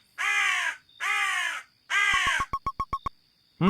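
Three long harsh crow caws from the game Small Mouse, Big House, followed by a quick run of short clipped croaks and the start of another call, loud and close with no talk over them.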